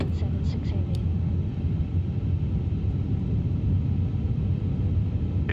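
An Airbus A350 rolls for takeoff in a flight simulator game, a steady low jet engine roar and rumble held at constant loudness, with a few faint clicks early on.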